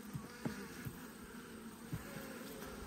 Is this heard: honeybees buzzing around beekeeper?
yes